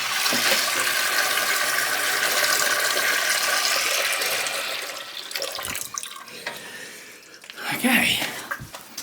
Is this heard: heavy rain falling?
no